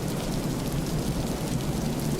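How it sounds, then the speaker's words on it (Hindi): Heavy rain pouring down steadily, a dense, loud, unbroken hiss of drops on surfaces with a low rumbling undertone, no voices. "रातों तक लगातार पानी बरसा,"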